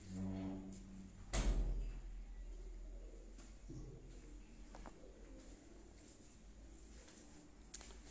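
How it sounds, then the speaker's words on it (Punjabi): A pigeon coos softly on a rooftop while it is held and stamped, with a sharp knock near the start and low handling rustles through the rest; no one speaks. "ਪਹਿਲੇ ਕਬੂਤਰ ਨੂੰ ਮੋਹਰ ਲੱਗੀ ਹੈ।"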